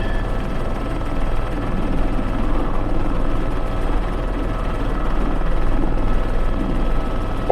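Airbus H125 helicopter on a sling-load operation, its rotor and engine making a loud, continuous whirring drone close by, with a steady low throb and no talk.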